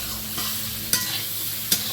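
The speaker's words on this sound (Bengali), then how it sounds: "দেখো আলুটা ভাজা হয়ে গেছে লাল লাল করে উঠিয়ে দেবো" Potatoes frying in a pan in a home kitchen, a steady close sizzle with soft stirring scrapes and two sharp clinks of a utensil against the pan, no voices.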